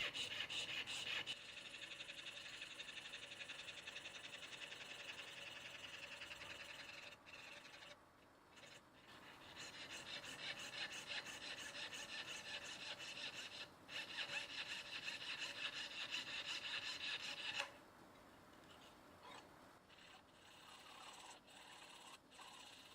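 Real mother-of-pearl inlay pieces being hand-filed for a walnut guitar neck, a quiet, fast rhythmic rasping of repeated strokes that runs in long bursts with short pauses, close and alone without speech.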